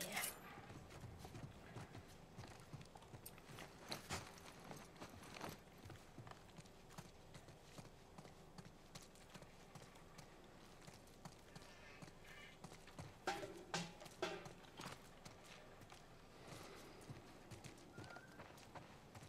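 Horse hooves clip-clop through a stretch of in-game play from The Last of Us, a steady walking rhythm of soft, close steps with a brief snort or whinny, under light background sound and occasional quiet talk.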